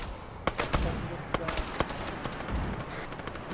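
Heavy gunfire in the Arma 3 Halo mod: sharp repeated shots crack out at irregular intervals over a dense battle din, with voices shouting beneath the fire.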